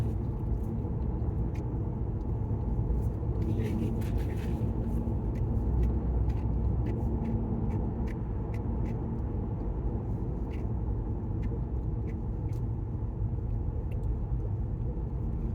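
A small electric car rolls along a curvy road, with a steady low rumble of tires and road noise heard from inside the cabin. It stays moderate and unbroken, with faint ticks and no talking.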